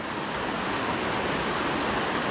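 A mountain creek in flood rushes past a washed-out hiking trail, a loud, steady, broadband roar of flowing water that stays constant throughout, with no speech.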